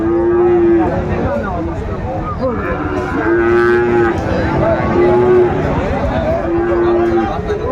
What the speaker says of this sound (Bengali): খামার উপযোগী সার গরুগুলো যেখানে বেচা কেনা হচ্ছে আমরা সেই জায়গায় রয়েছি